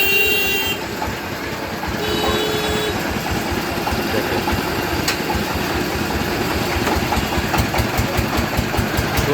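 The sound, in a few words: vehicle engines and horns at cattle market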